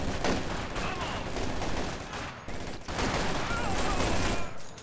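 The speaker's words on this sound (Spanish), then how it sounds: "puta ametralladora" Dense, sustained battle gunfire from the strategy video game Company of Heroes 2, with machine gun bursts and volleys rattling continuously and loudly throughout, briefly dipping before resuming at full intensity.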